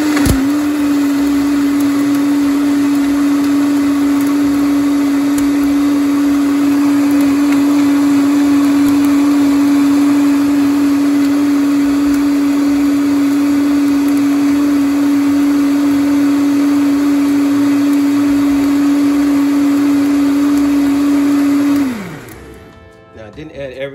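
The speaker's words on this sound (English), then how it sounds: "And then I'm gonna start the blending." A blender runs steadily at high speed on fruit and greens, a loud sustained whir with a constant pitch that winds down sharply at the end.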